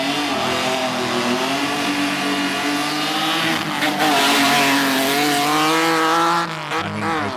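A 2002 Alfa Romeo 156 GTA race car climbing a hillclimb course, its engine revving hard and rising through gears, loud and close, with brief lifts between shifts.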